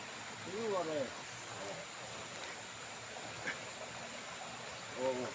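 A river flows beside a house in a steady, even wash of water noise throughout, with brief voices exclaiming over it near the start and end.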